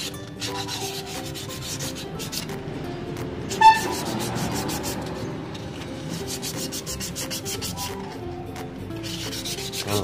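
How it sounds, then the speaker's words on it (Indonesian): Steady rasping strokes of hand sanding on an engine block being smoothed for a chrome-like polish, continuous and fairly close, with a brief sharper scrape partway through and no voices. "Gosok aja sampai halus ya."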